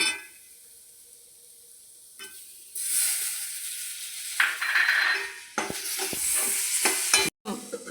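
Chopped tomato goes into a pan of spices frying in oil, among them Kashmiri chilli, while a dried shrimp roast is being made. The clip starts quiet, then a loud sizzle bursts out and is stirred, with brief scraping and clatter.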